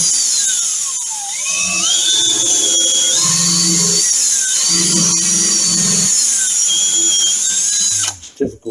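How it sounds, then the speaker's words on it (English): A high-pitched electric drill whines steadily at high speed for several seconds while servicing a Triumph Trident T160 starter motor, pitch drifting up and down, with a voice talking underneath before it cuts off. "I'm just going to use the drill, preferably on high speed."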